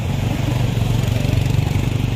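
A motorcycle engine running nearby on a street, a steady loud mid-pitched drone with a slight pulsing rhythm and no voices over it.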